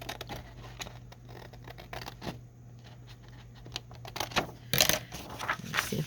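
Scissors snip through folded paper card stock for hinged pocket journaling cards, a run of sharp, close cuts with a few louder rustles near the end and no talk.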